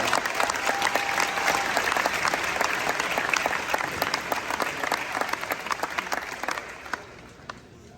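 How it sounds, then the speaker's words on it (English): Sustained applause from a crowd at a friends and family show for the Infinity Percussion ensemble's 2022 staff speeches, dense overlapping claps fading toward the end, with no talk over it. "So a round of applause for yourselves"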